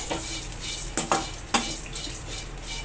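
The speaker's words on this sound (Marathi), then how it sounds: "आता ह्याच्यामध्ये आपण हा जवला भाजून घ्यायचा आहे जास्त वेळ भाजायचं नाही आहे दोन तीन मिनटासाठी हा परतून घ्यायचं आहे" A metal spatula stirs dried jawla shrimp as they roast in a kadhai for a Malvani-style dish. Soft scraping runs throughout, with two sharp clinks against the pan about half a second apart, and no one speaks.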